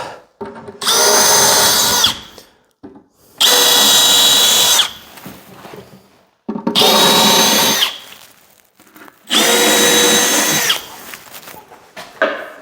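A power drill whines in four separate bursts of about one and a half seconds each while installing cabinets, with short pauses between them, loud and close.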